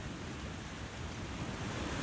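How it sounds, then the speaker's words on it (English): A waterfall hidden beyond rocks in The Long Dark video game gives a steady, even rushing roar throughout, with no voices. "you can't even see the waterfall, but it's beyond those rocks"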